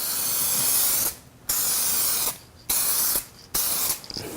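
Aerosol headlight restoration product sprayed onto a car headlight lens in four steady hissing bursts, each about a second long, with short pauses between, close and fairly loud.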